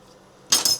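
A metal spoon clinks against a pot while beef stew is being cooked: quiet room tone, then two quick, bright clinks close by in the last half second.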